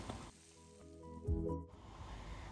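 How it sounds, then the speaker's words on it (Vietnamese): Battered banana slices deep-frying in hot oil give a faint, soft sizzle under a low steady hum, swelling briefly in the middle before settling back to a quiet crackle. "chiên tiếp cái phần chuối còn lại nha"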